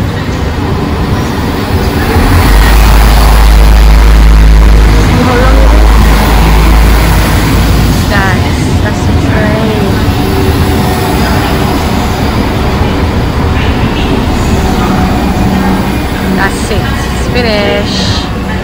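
A loud, continuous rumble of an arriving train passing close by, heavy low roar with clattering over the tracks, with people talking over it.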